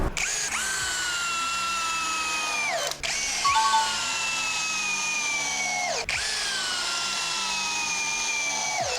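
A new-model 20V impact drill drives a 5-inch screw into wood with a loud, close, whining motor. It runs in three long bursts, each pitch sagging under load before a brief stop.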